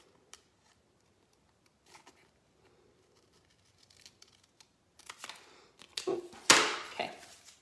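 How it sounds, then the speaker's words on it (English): Scissors snip away excess gold decor transfer film on a piece of furniture, with a few faint, sparse clicks at first and then louder crinkly cuts and rustling plastic in the final seconds. "Let's cut off some of that extra gold here."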